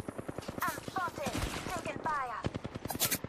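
Rapid automatic gunfire in Apex Legends aimed at Loba, a fast steady stream of sharp close shots with a voice speaking over the bursts.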